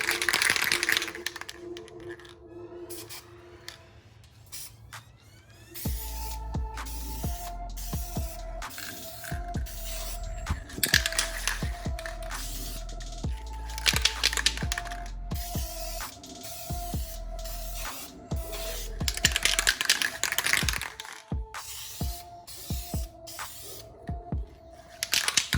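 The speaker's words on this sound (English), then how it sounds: "So I'm going to give it a little shake and spray our second coat." VHT Nite-Shades tint hisses from an aerosol can onto car tail lights in several close spray bursts, broken by short pauses and small handling clicks, with no talking.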